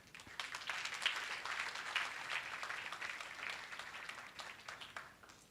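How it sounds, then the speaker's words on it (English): An audience at a mental health awareness workshop applauds a gift recipient with a brief burst of clapping that swells then fades, moderately distant. "Let's give a hearty clap to Luisa as she receives the gift"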